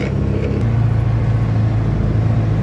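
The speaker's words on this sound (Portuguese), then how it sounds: "eu virei o caminhão e tô voltando aqui, pegar aquela outra estradinha lá" Mercedes 608 truck driving along a narrow country dirt road, its diesel engine droning steadily and loud up close with a low rumble throughout, no talking.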